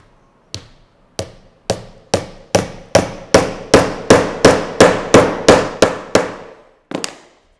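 A hammer drives a nail into a shoe sole for handmade mules, with about fourteen sharp, ringing strikes at a steady, slightly quickening pace, loud and close, then one final lighter tap after a short pause.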